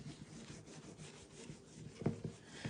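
Crackle medium is rubbed by hand into the cracks of a decoupage surface, a soft, close, continuous rubbing with a few sharper scuffs near the end.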